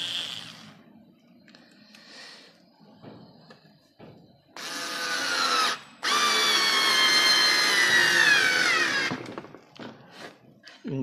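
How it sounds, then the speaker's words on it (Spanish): A Daewoo 3.6-volt cordless lithium screwdriver drives screws in two loud bursts of steady motor whine, a short run and then a longer sustained one, with quieter handling noises and faint clicks before and after. "Cuando accionamos el atornillador, se enciende."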